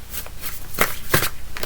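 Oracle cards are shuffled in close, quick riffling bursts, with several louder flicks standing out against a steady rustle.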